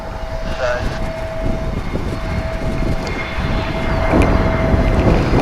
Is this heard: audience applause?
no